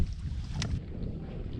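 Wind gusts roar into the microphone on a boat during cold-weather bass fishing on Lake Lanier, a steady low rumble with a brief hissing swell.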